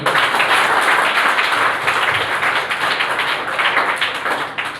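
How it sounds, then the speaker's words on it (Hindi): Loud, close audience applause, a thick sustained clatter of many hands clapping at once with a faint rhythmic pulse, running for about five seconds before easing off. "ज़ोरदार उनके लिए वापस से तालियां हो जाए"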